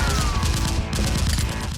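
Video game gunfire exchange: dense, continuous rapid bursts of automatic shots fill the whole clip at close range and steady loudness, with no pauses between volleys.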